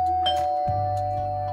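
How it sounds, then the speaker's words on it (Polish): A doorbell rings inside the Toca Boca video game, a bright two-tone ding-dong chime, the second lower note held and ringing out clearly on its own. "Kto dzwoni do drzwi?"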